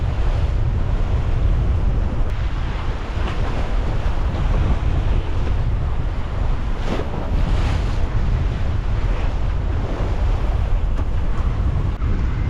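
Strong, gusty wind buffets the microphone on a sailboat off Key West in big waves, with constant rushing water and surf noise, loud and unbroken with no voices.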